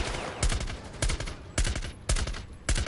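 An automatic rifle fires in Rainbow Six Siege: five loud, close bursts of rapid rounds roughly half a second apart, each a crackling cluster of shots over steady ambient game noise.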